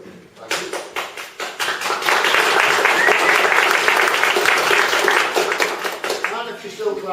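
An audience at a software design talk breaks into applause that builds quickly into dense, loud clapping for several seconds before thinning out into scattered claps.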